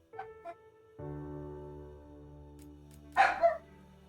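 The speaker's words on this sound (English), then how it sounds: "I'm sorry about the dogs." Dogs barking somewhere nearby: two short, moderate yaps at the start, then after a pause a louder, harsher pair of barks near the end, all over a steady droning background hum with no talking.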